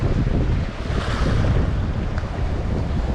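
A strong crosswind roars continuously into the microphone during sea fishing for large squid from a boat off Spain, a loud, steady rush of buffeting wind noise with no break.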